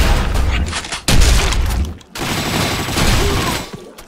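Automatic weapon sprayed in the Blackshot shooter game: dense, loud rapid-fire volleys roaring in long bursts, broken by two short pauses, with no talk over them.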